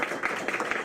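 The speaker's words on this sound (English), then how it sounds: "Give it up, a round of applause there for Justin." An audience claps for Justin at a radio theater show, a brief, faint patter of applause.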